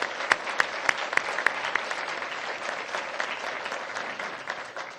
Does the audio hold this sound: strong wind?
no